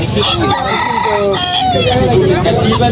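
Roosters crowing at a fancy chicken market where White Polish cap birds are sold, several loud overlapping crows and clucks packed close together in a busy, continuous din.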